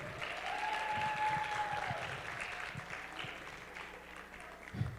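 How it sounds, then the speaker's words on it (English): Applause from an audience at a kids' night educational forum, a moderate, fairly distant patter of clapping that runs steadily and fades slightly toward the end, with a faint tone and some room noise underneath. "Please help me give them another round of applause"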